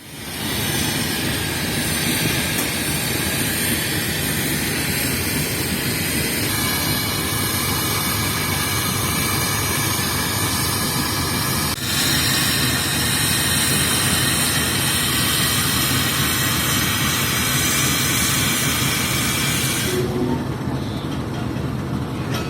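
A diesel locomotive idles at Multan Cantt railway station, ready to lead the 12 Down Hazara Express, giving a loud, continuous engine drone with shifting tonal hum, close and unbroken for over twenty seconds.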